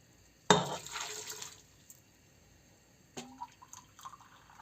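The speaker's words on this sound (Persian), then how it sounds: "ما 2 لیوان آب جوش اضافه نم." Two glasses of boiling water poured into a cooking pot holding crushed cardamom pods, a loud splashing burst that fades over about a second, followed later by faint clinks and small liquid sounds.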